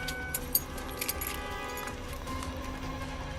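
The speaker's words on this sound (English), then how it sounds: "Turn off the car and pass me the keys" Keys jingle briefly as they are handed over from a car during a roadside traffic stop on a wet road, a few light metallic clinks near the start over a quiet engine hum.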